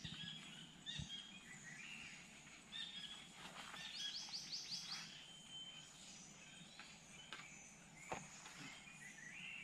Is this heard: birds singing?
yes